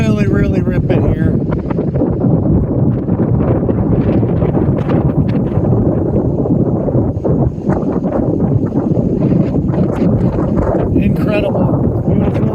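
Strong wind rips past a truck on a road heading south out of Anchorage, a loud, continuous roar buffeting the microphone throughout, with some faint rustling underneath.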